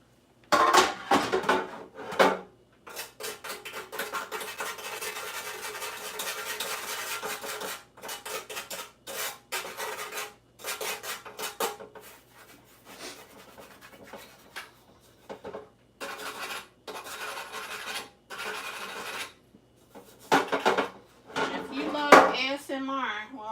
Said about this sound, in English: Gonna use one of these pumice stones.